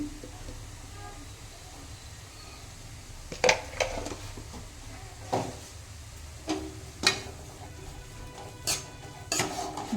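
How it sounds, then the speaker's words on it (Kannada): Grated radish palya being stirred and mixed in a pan, soft scraping under a low background hum, punctuated by sharp clinks of a spoon knocking against the metal rim at irregular intervals. "ಈ ಥರ ನೀಟಾಗಿ ಕಲಿಸ್ಕೊಂಡು ಮತ್ತೆ ಮುಚ್ಚಿಡ್ರಿ"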